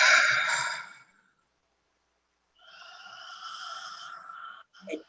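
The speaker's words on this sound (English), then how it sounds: "And then exhale out the mouth." A long breathy exhale through the mouth, then a pause of near silence before a second, softer airy breath out, close and unhurried during a guided breathing exercise.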